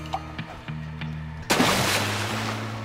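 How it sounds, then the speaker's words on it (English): A firecracker bursts inside a toilet in the video game Bully, a sudden loud crack partway through followed by a noisy decaying splash and rumble, preceded by quieter game sounds. "I can actually put a firecracker in the toilet."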